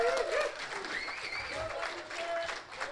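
Audience at an Air Force military ball in the Azores cheering and applauding for a first sergeant, a sustained crowd roar with whoops and whistles, fairly distant and moderately loud.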